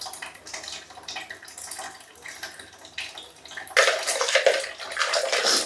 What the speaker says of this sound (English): So this is how I'm going to wash my face, and I'm going to use a towel to clean off the soap before I jump into the shower.